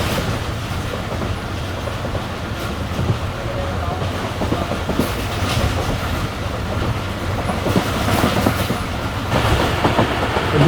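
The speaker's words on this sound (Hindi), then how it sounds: "ट्रेन हमारे इस वक्त चंडीगढ़ रेलवे स्टेशन पर अप्रोच बना रही है" The Awam Express, a Pakistani passenger train on a new rake, rumbles along the rails with a steady, loud interior roar, faint clickety-clack and occasional wheel squeal as it approaches a curved station.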